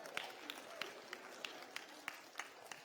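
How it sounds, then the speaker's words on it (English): Scattered, sparse clapping from a small group at a church, individual claps spaced out and fairly faint against a quiet room background. "Can you give Miss Erica a big round of applause?"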